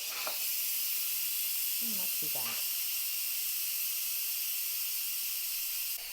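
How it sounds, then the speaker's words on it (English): An Instant Pot pressure cooker lets off steam in a quick release, a loud, steady hiss running without a break the whole time, with a few words spoken briefly over it. "I'm going to do a quick pressure release, which is where we just move this steam handle across, and I'm going to just let the steam out manually"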